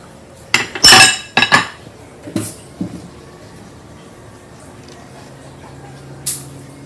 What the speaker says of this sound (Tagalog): and now I will mix the sugar.